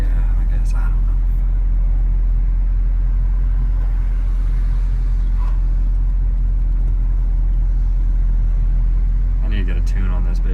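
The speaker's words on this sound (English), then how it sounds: "She's running right now at idle 13 to 1400 RPMs." 1997 Mitsubishi Eclipse GSX engine idling at around 1300 to 1400 RPM, a loud, steady low rumble that holds throughout, heard from inside the car.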